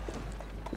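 Horses gallop in Assassin's Creed Syndicate, with quick clattering hoofbeats over a low steady rumble in a brief burst and no talk.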